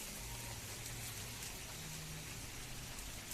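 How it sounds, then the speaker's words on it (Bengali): Storm rain falls steadily outside a house, a faint, even hiss of drops with no other sounds over it. "বাইরে ঝড় হচ্ছে বৃষ্টি হচ্ছে"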